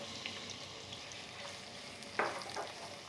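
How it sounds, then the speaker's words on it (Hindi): Sliced onions frying in oil with cinnamon and other whole spices, a soft steady sizzle close by, broken by a couple of sharp clinks as the pan contents are stirred. "प्याज को हमें अच्छा सा गोल्डन होने तक पकाना है"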